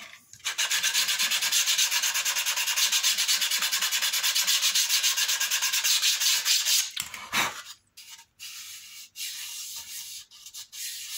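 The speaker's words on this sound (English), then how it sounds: "Just a gentle rub over with some sandpaper, just take the high spots off." Sandpaper rubbing steadily over a glued wooden overlay on a Ffestiniog railway flying bench carriage, a continuous close scraping for about seven seconds, then a few short separate strokes.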